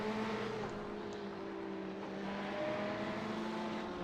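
GT1 and GTE race cars, a Ferrari among them, roar steadily at Barber Motorsport Park, several engines droning together with rising and falling pitch as the field runs onto the straight, loud and continuous without talk.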